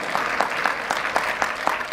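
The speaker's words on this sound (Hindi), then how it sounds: "ताली बजाओ तो अच्छे से बजाओ ना।" An audience at a Hindu Ram Katha religious discourse claps together in a close, loud burst of rhythmic applause, with hand claps falling in a steady beat for the whole moment.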